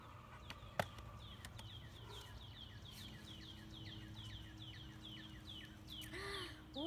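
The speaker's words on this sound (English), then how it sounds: "I can hear the nice birds and seagulls all around on this nice beachy day" Birds call all around on a beach day, with repeated short chirps and caws scattered across the background at low volume and a brief louder knock early on.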